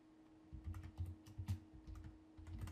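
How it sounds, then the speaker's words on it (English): Text being typed on a computer keyboard, a run of quiet, close key clicks arriving in small irregular bursts over a low steady hum, with no voice present. "So let's type some text in here"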